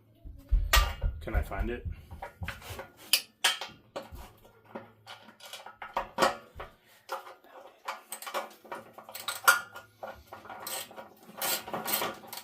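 Metal sockets and tools clatter and clink as someone rummages through a socket set looking for an extension while working on a Suzuki Savage hardtail motorcycle; the bursts of rattling are irregular and close, with a voice speaking briefly.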